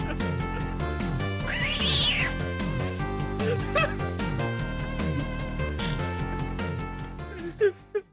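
A cat meows once, clearly and fairly loudly, over video game music from the Genesis version of Journey to Silius that plays continuously, with a few faint sounds near the end.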